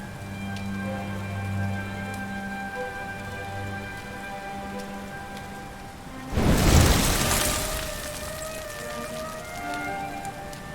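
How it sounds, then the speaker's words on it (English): Steady rain falls in the Dragon Quest XI video game world, a soft continuous hiss broken midway by a sudden muffled burst, with faint tones underneath. "Looks like the rain's dying down."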